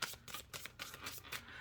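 A thick tarot deck of mushroom-themed cards is shuffled by hand, giving soft, repeated papery riffles and slides in quick bursts, close and quiet, with no talking.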